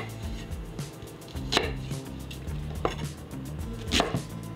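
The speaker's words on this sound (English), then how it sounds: "just slicing up that onion into some decent size bites" A knife slicing an onion into bite-size pieces on a cutting board: a few sharp, separate cuts spaced about a second apart, fairly close and quiet, with no talking.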